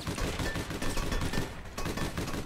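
Rapid bursts of gunfire from a weapon in the video game APB, dense and continuous crackling shots filling the whole moment with no pauses.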